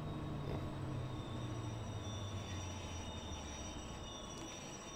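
A Class 143 locomotive hauling two double-deck coaches and a double-deck cab car under emergency braking in Train Sim World 4, with steady rumbling rail noise and a squealing tone from the wheels that slides gradually downward.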